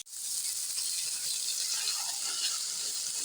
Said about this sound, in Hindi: अब घी में दोबारा से जो है वो हलवे को हम थोड़ा भून लेते हैं